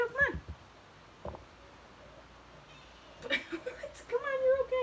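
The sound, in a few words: pet cat meowing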